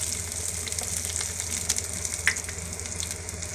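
Onion sautéing in hot oil in a pan for Bombay Maggi, a steady close sizzle with light crackles and a few stirring clicks.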